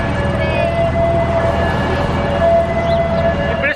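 A steady siren wail drones through loud, continuous New York City background noise for the whole stretch, never rising or fading much.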